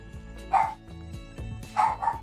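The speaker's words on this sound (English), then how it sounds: "I don't know what it is with my dog. She always barks when I've just been out." A pet dog at home barks in a few sharp, close yaps spread over two seconds, with a music-like background running underneath.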